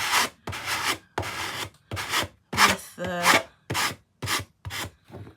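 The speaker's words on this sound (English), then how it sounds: "See how that just comes out really nicely with the sanding block." A sanding block rubs along the edge of a decorated paper planner card box in a series of about ten short, even scraping strokes, with a brief spoken remark between them.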